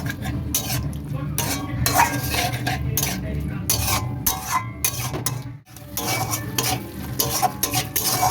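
Meat stock being stirred into chicken bharta in a pan, with a spoon scraping and clinking against the metal in quick repeated strokes over a low bubbling sizzle, close and busy with one short pause.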